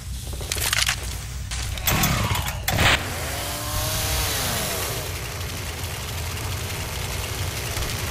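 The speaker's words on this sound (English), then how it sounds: "Chainsaw here." A chainsaw runs in the video game Left 4 Dead 2, with a steady mid-pitched engine drone and a few sharp revving bursts early on, loud and close, with no talk.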